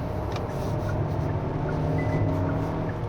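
Inside a Hyundai Santa Fe MX5 in sport mode, a steady engine drone rises gently as the car accelerates, heard continuously over road noise with no talking.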